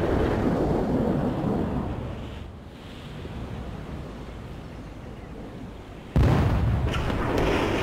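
Artillery barrage in the real-time strategy game World in Conflict: low rumbling booms and a wash of distant explosions that swell and fade, then a sudden louder impact near the end, no talking.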